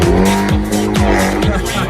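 A Peugeot 308 with a sporty exhaust drives past, its engine droning steadily with repeated gear-like pitch drops and a loud, close, continuous roar.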